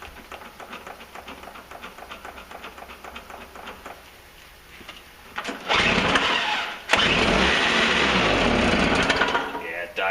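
Toro CCR snowblower engine pull-started after priming: a rattling cranking sputter, then a loud harsh burst of running that cuts out briefly, resumes roughly and stops, up close.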